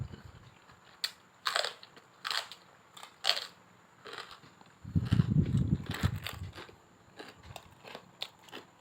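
Crunchy chewing up close on stewed buffalo feet: repeated crisp crunches in an uneven rhythm, with a muffled stretch of louder munching in the middle.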